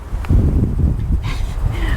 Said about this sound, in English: it's windy as all heck